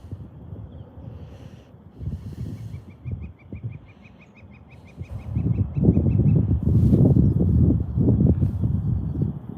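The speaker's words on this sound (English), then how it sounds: "Can hear the birds over there" Birds sing faintly in the distance outdoors beside water on a rainbow trout fishing trip, a thin run of repeated chirps over wind noise and rustling handling sounds nearby.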